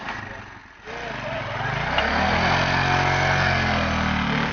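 A motorcycle engine idles and revs as the bike is unloaded from a wooden river boat on the Sutlej River, a steady mid-pitched drone that builds after a brief dip and holds close and continuous.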